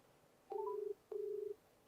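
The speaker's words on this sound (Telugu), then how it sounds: "రింగ్ అవుతుంది చూద్దాం ఒకసారి" Ringback tone on an outgoing phone call: two steady electronic ring pulses about half a second each, separated by a short gap, faint and clean against quiet line hiss.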